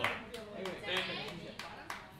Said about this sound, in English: if you're not eating a rib, why don't you clap for me